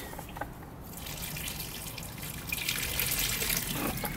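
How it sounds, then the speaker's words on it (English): At an allotment, a little water trickles onto the roots of a plant being planted. The faint splashing grows a little louder and more continuous toward the end. "Little bit of water"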